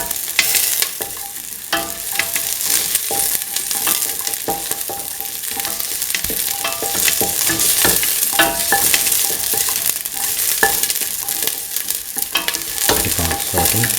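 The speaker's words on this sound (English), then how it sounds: "Saute until the shells reach their pinkish color." Shellfish sauté in a pan until the shells turn pink, giving a continuous close sizzle broken by frequent clicks and scrapes of stirring throughout.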